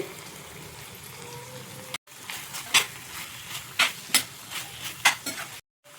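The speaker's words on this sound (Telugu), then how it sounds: "ఇప్పుడు ఈ బఠానీలు వేసుకొని 1 నిమిషం కలుపుకుందామండి." Peas being stirred into paneer bhurji in a pan, with repeated close scraping strokes over a soft sizzle, a brief silent break partway through and a quick cutoff at the end.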